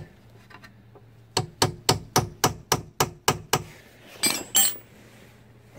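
Hammer tapping a wheel bearing retaining clip into its groove during a front wheel bearing replacement: eight sharp, evenly spaced metallic taps in a quick row, followed by a couple of scraping clinks, close and loud.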